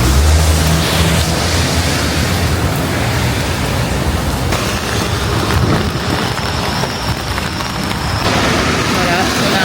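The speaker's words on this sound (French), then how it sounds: "Et puis il pleut pour de vrai. Genre il pleut vraiment pour de vrai." Heavy rain falls outdoors in Japan, a dense, continuous hiss of drops that stays loud and even throughout, with no pauses.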